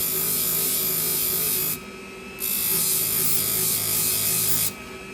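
Hair salon shears being sharpened on a flat hone, working the convex bevel with light strokes: a close, steady rasping scrape that runs continuously, with one brief drop in intensity between strokes and a second near the end.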